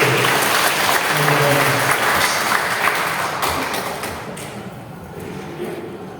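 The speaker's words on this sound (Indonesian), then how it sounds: "tepuk tangan untuk Romo Teguh" Audience clapping for a priest after a meditation and exercise session talk, a broad, steady wash of applause that slowly fades toward the end, with faint voices mixed in.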